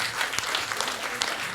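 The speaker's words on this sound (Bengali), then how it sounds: "সবাই মিলে একটু জোরে করতালি হয়ে যাক।" An audience at a poetry event claps for the children in a brief, steady round of applause, fairly close, with a few sharper individual claps standing out.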